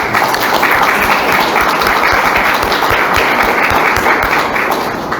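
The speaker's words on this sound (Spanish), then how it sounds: "Fuerte aplauso a los compañeros." A loud, close round of applause fills a Tolkien discussion gathering, many hands clapping in a thick, steady roar that holds evenly throughout.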